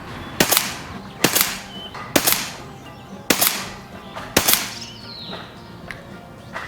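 A JTS air rifle fires 22-grain pellets in five sharp, close cracks spaced roughly a second apart, each followed by a brief ringing tail, with no talking.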